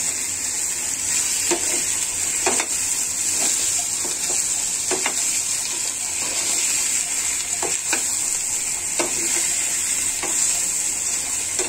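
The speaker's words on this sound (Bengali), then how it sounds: "আদা, পেঁয়াজ, রসুন, হলুদ, লবণ সবকিছু দিয়ে মাছগুলো নাড়িয়ে নিচ্ছি" Rohu fish pieces stirred in a hot pan with ginger, onion, garlic, turmeric and salt, a continuous loud sizzle broken by repeated scraping strokes of the spatula at an even rhythm.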